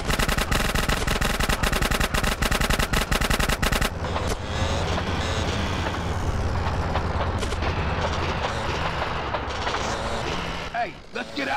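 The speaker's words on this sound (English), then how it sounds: "Roll up on them, CJ, so I can get a shot!" Rapid gunfire from a train chase mission in GTA San Andreas, loud bursts of automatic shots crackling for the first few seconds, then a dense roar of rumbling action and engine noise with voices mixed in.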